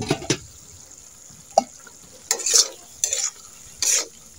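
Papaya curry with a thick gravy is stirred and sautéed in a pan: a quiet simmering bed broken by several bursts of scraping spatula strokes and brief sizzles, close and uneven in rhythm.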